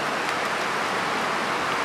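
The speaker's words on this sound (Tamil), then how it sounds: "சரியான மழை ஊற்றுது," Heavy rain pours outside in a steady, dense hiss that fills the whole stretch with no pauses and no voices.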